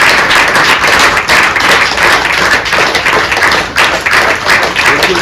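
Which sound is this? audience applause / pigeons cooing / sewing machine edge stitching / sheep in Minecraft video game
audience applause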